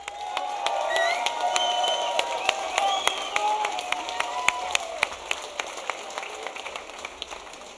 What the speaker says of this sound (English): please, round of applause for Corbin